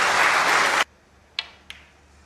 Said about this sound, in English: The crowd getting behind them